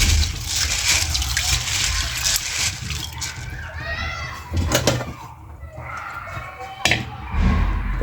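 Soaked hard beans being washed by hand in water, with intermittent sloshing and splashing and some clattering, close, while a person talks over it.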